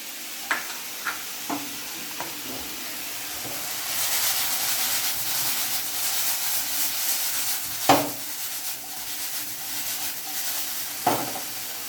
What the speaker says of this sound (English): we will add potatoes and give a quick stir